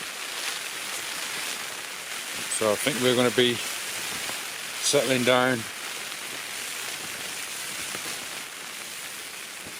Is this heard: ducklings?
no